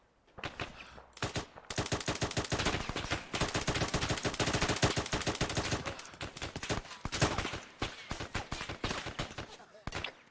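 Sustained gunfire in the military shooter ArmA 3, dense rapid bursts of loud automatic fire that rattle almost continuously with brief gaps, close and harsh, with voices faintly mixed in.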